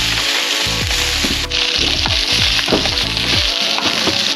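Food frying loudly on a hot camp burner, a steady close sizzle with crackles and pops throughout, no talking.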